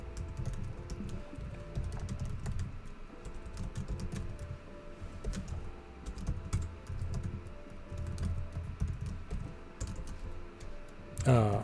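Steady, close typing on a computer keyboard while writing Rust code: rapid, irregular key clicks running throughout, with occasional louder keystrokes.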